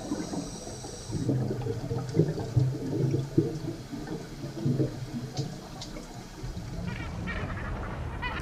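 A large flock of Cape gannets rafting at sea off a rocky coastline gives a dense, continuous chorus of harsh honking calls, steady and moderately loud against water and wind noise.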